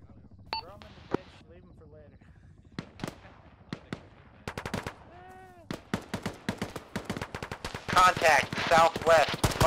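Sharp gunshots crack out in a military video game firefight, with scattered single shots turning into dense, rapid bursts toward the end, while voices talk over radio in between.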